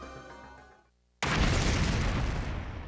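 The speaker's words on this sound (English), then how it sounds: "An explosion suddenly echoed across the room." An explosion in the video game The Hundred Line: a soft music bed fades to near silence, then a sudden loud, broad roaring blast hits and sustains as a dense rumble to the end.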